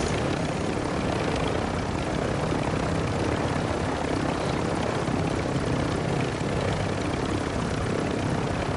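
A video game helicopter falls from the sky with a continuous, loud rotor and engine roar that fills the whole stretch steadily, with no talk over it.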